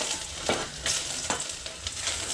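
Ginger pieces sautéed in a hot pan, a steady close sizzle with a few brief stirring scrapes, no voices.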